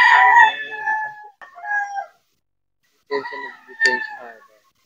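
Gamefowl roosters crow at a gamefarm sale area, two distinct cock-a-doodle-doo calls near and loud, each drawn out with a short break, the second overlapping another bird's crow.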